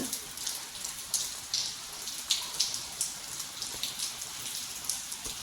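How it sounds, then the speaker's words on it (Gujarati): Heavy unseasonal rain falling, dripping and pattering onto a surface in a steady stream of sharp drops and splashes, fairly close with no voices. "જો એકદમ નેવા પડે ને એવો વરસાદ આવે"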